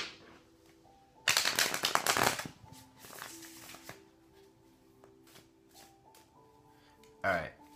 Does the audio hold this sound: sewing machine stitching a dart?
no